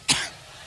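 Someone gives a single short, sharp cough, a quick close burst that fades fast with no talking over it.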